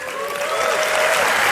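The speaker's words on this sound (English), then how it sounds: "have another continued round of applause for the send-off for Dr. Jordan Peterson" Audience applause fills a large hall at a Jordan Peterson 12 Rules tour event in California, steady dense clapping with some crowd noise, building slightly and sustained throughout.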